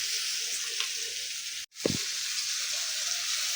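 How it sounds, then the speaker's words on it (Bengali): Okra (bhendi) frying in a pan on a hot day, giving a steady close sizzle and hiss that cuts out briefly, followed by a short clatter of a spatula before the sizzle resumes. "ভাজি বসাই দিল, ভেন্ডি ভাজি।"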